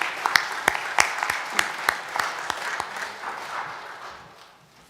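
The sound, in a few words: applause welcoming church visitors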